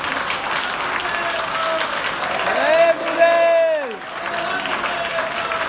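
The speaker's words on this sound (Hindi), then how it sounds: "दोनों हाथ खड़े करके ताली बजा के अपना समर्थन दीजिए" An audience at a community gathering applauds with hands raised in support, a steady wash of clapping throughout while a voice speaks over it in the middle.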